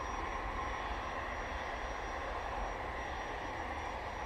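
Broadband jet roar of an Emirates airliner at Manchester Airport, a steady, fairly distant rumble with a faint high whine on top, holding level throughout.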